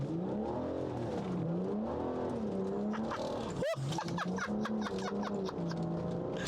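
A BMW 640d diesel tuned to about 400 bhp revs hard and continuously, pitch rising and falling as the car slides sideways on the road, with a brief cut and gear change midway.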